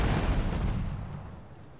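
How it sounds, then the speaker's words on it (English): Shotgun blast from the video game GTA 3, a single loud booming discharge that decays over under two seconds, with no talk. "Shotgun."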